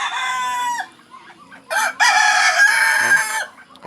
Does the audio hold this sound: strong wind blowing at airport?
no